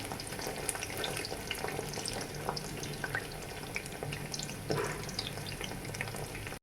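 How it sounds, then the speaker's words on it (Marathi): Paneer coated in cornflour frying in oil in a pan, giving a steady, dense sizzle with crackling pops that carries on evenly throughout. "पाहू शकता आपले पनीर छान फ्राय होत आहे"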